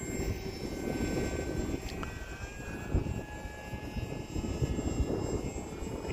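A Hobbyzone Aeroscout RC airplane's electric motor drones steadily as it flies in windy conditions, a continuous buzzing whine with rough wind buffeting underneath and small shifts in pitch as throttle changes.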